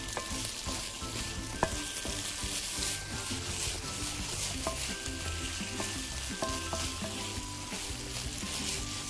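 Red vegetables fry in hot oil in a pan, a steady sizzle with repeated scrapes and taps of stirring throughout, moderately close and with no voices.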